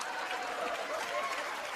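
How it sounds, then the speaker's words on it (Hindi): Enthusiastic applause from a comedy show studio audience, dense and continuous clapping filling the whole stretch with no pauses. "इनके लिए भी जोरदार तालियां।"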